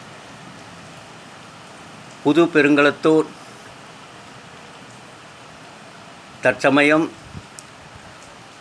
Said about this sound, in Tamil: நல்ல மழை பெய்து கொண்டிருக்கிறது.